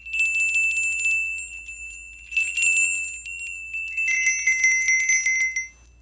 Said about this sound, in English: I have some bells over here.